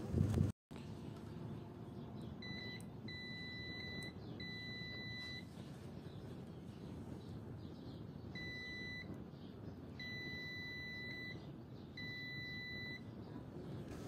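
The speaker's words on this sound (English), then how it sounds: "if two probes are placed in the same conductive path, it will beep" A multimeter set to continuity mode gives a series of steady electronic beeps, five short-to-long tones spaced a second or so apart over a constant low hiss, with a brief thump at the start.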